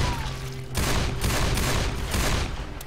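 Loud, close gunfire from the video game Left 4 Dead 2 comes in several rapid, rattling bursts back to back, with no voices over it.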